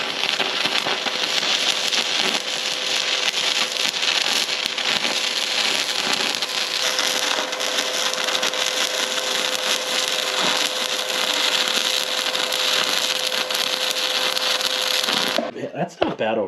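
A small, cheap arc welder runs a long, steady bead on a welding cart, giving a loud, continuous crackling buzz for most of the stretch before cutting off near the end.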